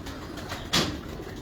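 A short-feathered pigeon gives a single brief coo, soft and close, over a steady low background hum.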